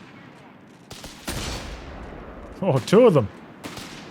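Moonshot grenades firing in Company of Heroes 3, a few dull battlefield thumps and launches spread over several seconds, heard under a commentator's excited voice.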